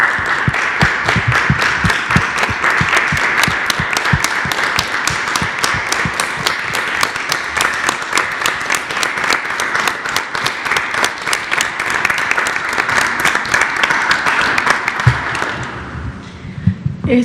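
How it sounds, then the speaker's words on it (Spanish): Applause breaks out as a tribute during a press conference, many hands clapping steadily and fairly close for about fifteen seconds before fading out. "este homenaje con un brevísimo aplauso"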